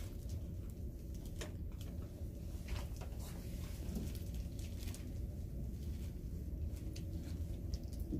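Steady rain falling during a typhoon, a dense continuous hiss with occasional louder drips or knocks, heard indoors at moderate level with no one speaking.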